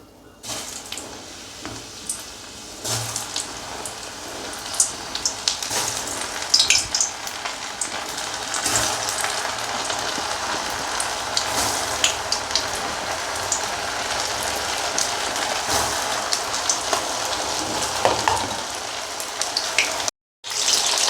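Pasta snacks made from a flour dough dropped into hot oil, a dense crackling sizzle with scattered pops and spatters, close and continuous for about twenty seconds with a brief dropout near the end and no talking.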